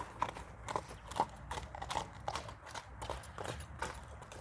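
A six-year-old black horse walks along, its hooves clip-clopping in a steady, even rhythm at close range with little else around.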